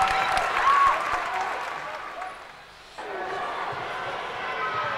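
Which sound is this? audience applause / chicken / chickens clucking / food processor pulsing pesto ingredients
audience applause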